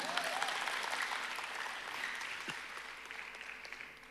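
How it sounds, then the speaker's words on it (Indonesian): Loud, steady audience applause fills a church worship service during a miracle night gathering, sustained clapping from a large congregation lasting about four seconds without a break. "Beri tepuk tangan."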